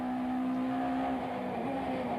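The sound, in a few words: touring cars racing at Killarney circuit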